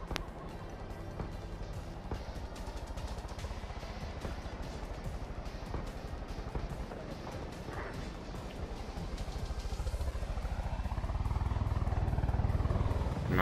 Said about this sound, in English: there's helicopter a helicopter at that